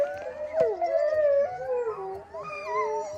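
Sled huskies howl together in an Arctic setting, several overlapping long, wavering howls rising and falling with occasional yips, fairly close and moderately loud.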